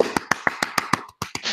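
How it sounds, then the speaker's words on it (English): A single person claps about ten times in a quick, even rhythm, close and dry, with a brief pause before the last few claps, at an online meetup on design operations. "start the applause."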